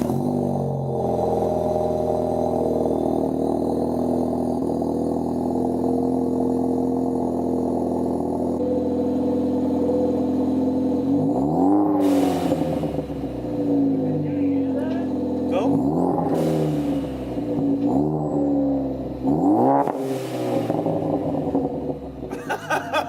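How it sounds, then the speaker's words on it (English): A Ford Focus ST engine with a catless MBRP downpipe starts and idles with a steady low rumble, then is revved hard several times in sharp bursts that rise and fall, loud and close. "and then I'm gonna do some revs from inside"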